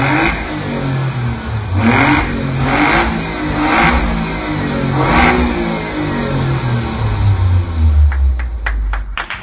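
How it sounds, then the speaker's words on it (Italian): An Alfa Romeo Giulia engine revs up repeatedly at close range, each rise and fall of the throttle loud and distinct, with the car settling toward a low rumble at the end. "il motore di un Alfa si deve anche sentire, riconoscere dalla sua voce,"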